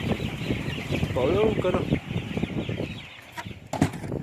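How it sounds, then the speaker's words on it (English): Chickens clucking on a chicken farm, a busy flock heard under a rushing background roar, with people talking over it and brief rustling bursts. "So many chicken."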